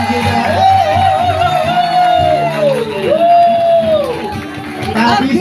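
A crowd of young people whoops and cheers at a youth worship service, the noise bursting out loud and fairly close under a sustained voice and music, with speech around it.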